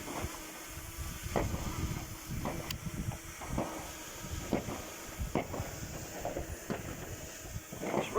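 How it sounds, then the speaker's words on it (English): Strong gusty wind buffets the microphone outdoors while a Cfly Faith Mini drone flies in sport mode, giving a steady roaring hiss broken by repeated thumping bursts throughout. "It's very windy."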